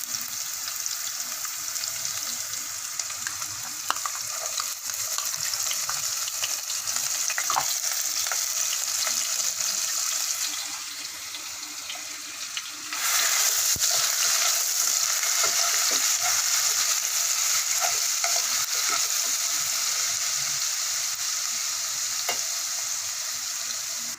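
Garlic and ginger stir-frying for chicken manchurian sizzle steadily and loudly in a pan with broad hiss throughout, dipping briefly near the middle before resuming stronger, with faint scraping of stirring and no talk.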